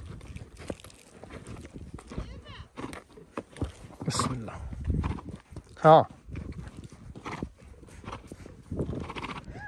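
A horse whinnies loudly partway through, amid shuffling hooves and movement, with people talking throughout.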